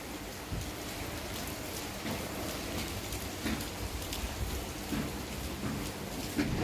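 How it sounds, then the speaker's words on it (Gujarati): Heavy rain pours steadily outside a family home during the morning, a dense continuous wash of drops on surfaces with no one talking, holding a constant roar throughout. "અત્યારે વરસાદ ચાલુ થઈ ગયો છે ફૂલ."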